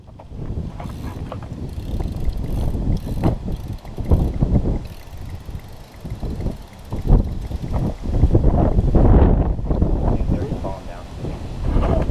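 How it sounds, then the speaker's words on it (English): Gusty wind buffets the microphone in loud, rumbling surges that rise and fall throughout, with some mechanical rattling mixed in. "It's pretty windy."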